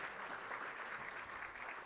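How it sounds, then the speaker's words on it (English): Audience applause welcoming the CEO and co-founder of Knowledge Genetics onto a live healthcare innovation event stage, steady faint clapping throughout with no talk over it. "Round of applause,"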